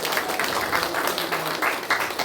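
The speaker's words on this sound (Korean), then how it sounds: "박수해 주시기 바랍니다" A church congregation applauds during a Sunday service, a steady spread of many hands clapping together in a large room, moderately loud and unbroken for a couple of seconds.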